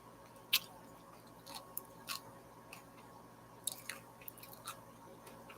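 Someone chews a spoonful of apricot mango soup with chewy dehydrated vegetables, making soft, close, intermittent wet squishes and bites at a low level.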